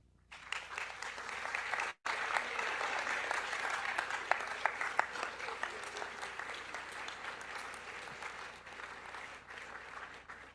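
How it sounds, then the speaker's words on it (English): An audience at a spring nursing honors convocation breaks into sustained applause, a dense roomful of clapping that starts after a brief pause, holds strong and slowly tapers over about ten seconds. "Students, please stand and take an opportunity on this very special today to applaud and thank them"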